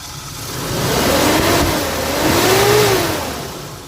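A 1994 Suzuki Katana GX car engine revs twice, rising and falling in two smooth swells close by, with no talking.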